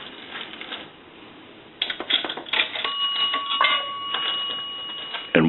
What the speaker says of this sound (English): That's going to ring the bell twice.